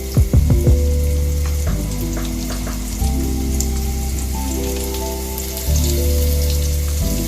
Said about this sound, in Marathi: सगळे कारले एक एक करून आपण त्याच्यात तेलात सोडून देऊ.